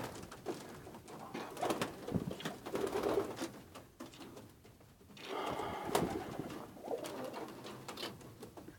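Pigeons in a loft cooing repeatedly, soft throaty calls overlapping with rustling and background noise, moderately near and fairly quiet.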